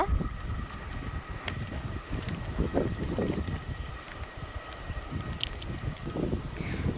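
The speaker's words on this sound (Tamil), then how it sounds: "நான் பேசும்போதே வந்து உங்களுக்கு தெரிஞ்சிருக்கும் எப்படி காற்றடிக்குதுன்னு" Steady wind roars and buffets the microphone in a continuous low rumble, rising and falling in gusts, with no one speaking.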